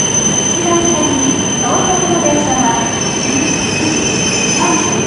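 Shinkansen train pulling away from a station, loud metallic wheel squeal and a steady high tone over rumbling rail noise.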